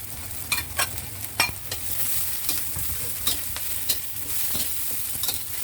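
Eggplant stir-frying in hot oil with onion and garlic, a steady close sizzle broken by repeated sharp scrapes and clacks of a spatula stirring the pan, with no talking.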